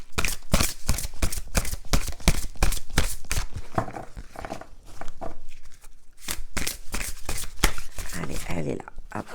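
Oracle cards are shuffled by hand for a monthly card reading, rapid crisp riffling and slapping bursts close to the microphone, pausing briefly midway before resuming.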